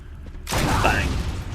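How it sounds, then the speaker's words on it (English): A gunshot from a gun in the video game Resident Evil HD Remaster bursts out suddenly after a brief quiet lead-in. It is loud and close, and a broad rumbling tail lingers for the rest of the moment. "I just think I've had enough of this, so I'm shooting you again."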